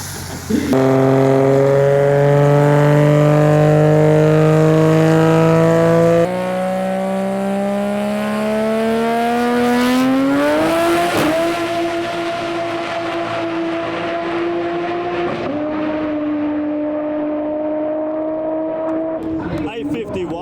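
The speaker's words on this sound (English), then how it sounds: "Strong burnout" A radial drag racing car doing a strong burnout holds a loud, sustained engine roar whose pitch climbs as revs rise, then settles into a steady high drone near and alone before fading at the end.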